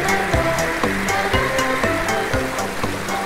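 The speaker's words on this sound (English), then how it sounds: "Oh, here comes some water. It looks like it's raining in here." At a water park, water sprays down like heavy rain and patters steadily and loudly onto surfaces nearby, with a rushing, splashing wash and small rhythmic drips on top.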